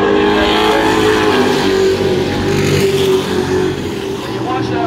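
Pro Road Truck Challenge race trucks circling a track, a loud continuous engine drone with steady pitch that eases slightly near the end, with race commentary running over it.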